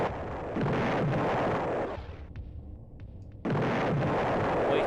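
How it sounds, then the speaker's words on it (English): Grenade explosions in an Amiga platform run-and-gun game: a dense roaring burst of blasts, a short break in the noise, then another loud sustained burst of explosions. "Wasting grenades like they're going out of style."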